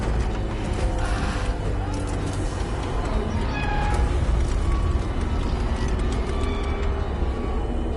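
A cat meows repeatedly in the Death Stranding 2 video game, near and clear over a constant deep mechanical rumble of a ship pressing through tar, with a voice briefly heard.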